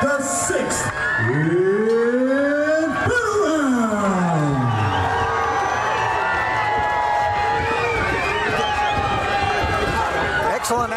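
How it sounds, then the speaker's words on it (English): Fight fans in an arena roar and cheer loudly and continuously, with whoops and sliding, siren-like shouts rising above a dense crowd wash and voices talking throughout. "put your hands together and cheer these fighters on"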